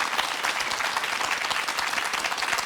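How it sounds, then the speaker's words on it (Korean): Studio audience applause on a Korean morning talk show after a lecture, a dense, even wash of many hands clapping at steady volume with no voices on top. "박수로 응원해드리겠습니다"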